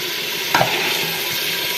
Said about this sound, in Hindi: अभी अच्छी तरह आलू को भी फ्राई करेंगे